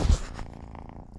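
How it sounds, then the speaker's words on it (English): A new cat purrs inside a Honda garage in a short, low, steady rumble that is loudest at the start and then fades quickly into quieter background noise. "I can hear him purring."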